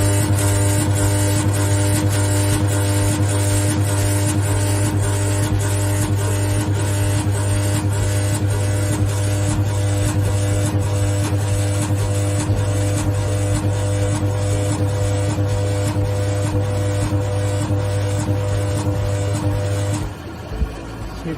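An Electroweld pneumatic rod butt welder, rated 100 kVA, anneals a welded steel rod with a steady loud electrical buzz and rapid regular pulsing clicks that run for about twenty seconds, then stop abruptly.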